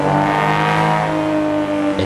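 A racing video game car engine revving hard during driving, loud and close, with a sustained, tonal whine that holds steady before a small dip and jolt at the end.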